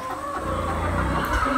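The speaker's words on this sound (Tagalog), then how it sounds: "Kasi meron tayong manok na nakalagay dito." Backyard farm chickens cluck and murmur close by after flooding from Typhoon Odette, a brief, busy stretch of clucking with no talking.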